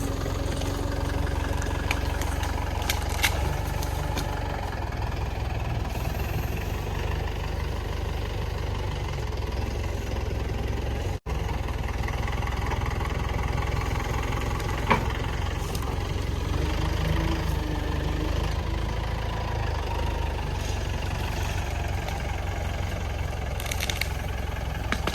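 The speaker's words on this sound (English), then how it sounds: "We got the forks on the Kubota and we cleaned up the rest of that tree." Kubota tractor fitted with forks on a dairy farm, its diesel engine idling in a steady low rumble that runs unbroken for the whole stretch, close and loud with a faint vibration, no voices over it.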